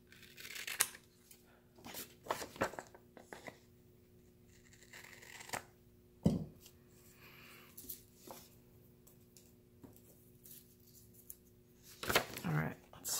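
Scissors snipping through paper for a reading journal, a handful of scattered crisp cuts and rustles close by, separated by quiet pauses, with a faint electrical hum beneath.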